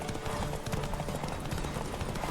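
A horse gallops in The Witcher 3: Wild Hunt during a race, a rapid, steady drumming of hooves with faint background game ambience, no voices over it.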